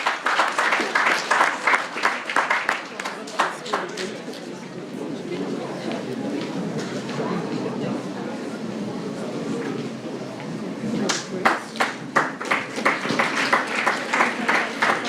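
Audience applause at a short film festival at SJCC: a lively round of clapping opens, gives way to murmuring and talk from the crowd, then a second strong burst of clapping rises near the end.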